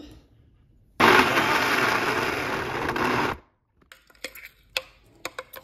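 A kitchen mixer grinder whirs loudly for about two and a half seconds, grinding ponaganti leaf chutney with onion pieces, then stops abruptly, followed by scattered light clicks and knocks of the jar.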